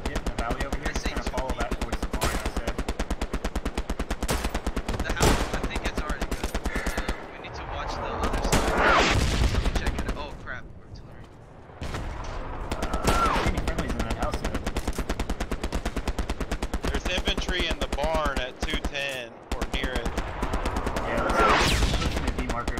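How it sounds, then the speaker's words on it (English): Rapid machine-gun bursts and rifle shots fill a World War II battle in Hell Let Loose, nearly continuous and loud with a brief lull midway, while players talk over the gunfire. "Someone's already firing, so I guess we're just gonna start firing"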